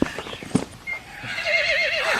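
A horse gives a loud, wavering whinny that rises and trembles near the end, preceded by a few hoof clops and scuffs close by.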